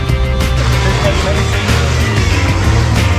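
Car driving on an off-road track at a Sydney four-wheel-drive show, a loud engine growl with low rumbling and revving that stays strong and continuous throughout.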